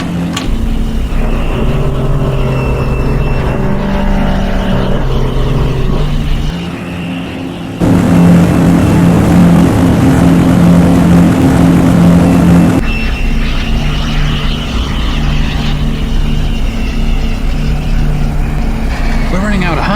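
Propeller aircraft approaching to land in an animated film: a steady, loud engine drone with a pulsing buzz runs throughout, swelling into a harsher roar midway, with voices speaking over it at times.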